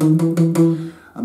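A guitar plays the opening bass riff of a song, standing in for a bass guitar. It gives a few short, plucked low notes in a quick rhythmic pattern, close and clear with no talking.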